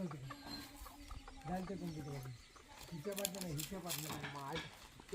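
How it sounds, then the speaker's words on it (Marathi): A rooster chases a hen around a village yard, with hens clucking and fowl squawking in short bursts close by while people talk over them. "आता हा कोंबडा कोंबडीच्या मागनं धावतोय"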